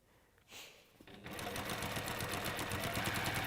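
Mini Beast sewing machine running a straight stitch: a soft click and hum start it up, then a steady fast mechanical whirring with even rhythmic ticking, close and continuous.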